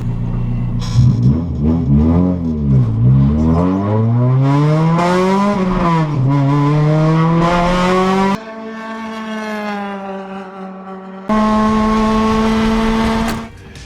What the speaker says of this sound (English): Ever driven a K20 swapped EK9 Civic? If not, here's a taste for you.